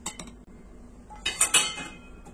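A metal spoon clinks against a bowl while tablespoons of flour are measured out for Eid cookie dough, with a few quiet taps and then a cluster of brighter, louder clinks near the end.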